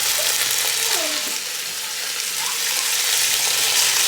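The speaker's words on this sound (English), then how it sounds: "Gonna add your beans." Steady loud sizzling as beans go into a hot pan with chicken and spices, a constant frying hiss with faint scraping, no talking.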